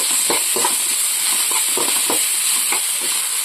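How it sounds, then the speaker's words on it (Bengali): Shredded cabbage frying in a pan with chili powder, turmeric, sugar and salt gives a close, continuous hiss and sizzle, with soft stirring scrapes at intervals and no speech. "তো বাঁধাকপি ভাজা ভাজা হয়ে এসছে"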